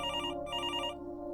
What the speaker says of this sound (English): when my cell phone rang